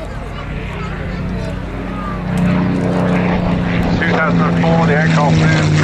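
Spitfire Mk XI propeller aircraft flying at the Southport Air Show, a loud, steady engine drone with a low tonal hum that grows stronger partway through, while a voice talks over it.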